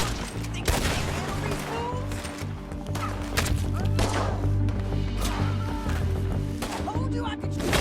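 A Red Dead Redemption 2 gunfight, with scattered loud gunshots cracking near and far over a rumbling backdrop, while horses snort and whinny and voices talk throughout.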